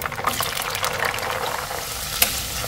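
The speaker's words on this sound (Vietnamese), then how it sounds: "Tiếp theo mình sẽ chiên đậu bắp." Okra frying in hot oil, a loud continuous sizzle and crackle that fills the clip without talk.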